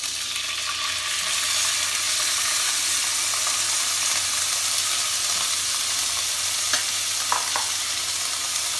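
Rice is tipped into fried masala for Kashmiri pulao and stirred in a pan, giving a continuous close sizzle with soft scraping and a few brief clinks, no voices.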